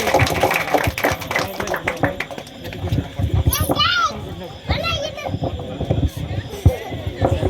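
Crowd clapping at a Vinayaka Chavithi festival celebration, dense hand claps mixed with children shouting and chattering voices, close and loud throughout.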